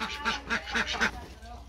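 Several ducks on a farm quack in a quick run of about five rhythmic calls close by, then fall quiet.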